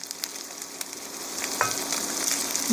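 Carrots sizzle and crackle steadily in a hot pan, growing slightly louder as more are added partway through, with a brief clatter of a utensil.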